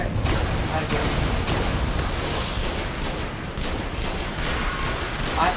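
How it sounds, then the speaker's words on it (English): Rapid bursts of super pistol gunfire in the video game Destiny, dense and loud cracking shots packed into a continuous barrage, with a voice talking over the noise. "I can get my super pistol out"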